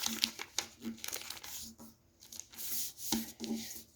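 Paper being folded into a triangle for a sunflower spinning top makes crisp crinkles and rustles in bursts at close range, with a short quiet gap midway.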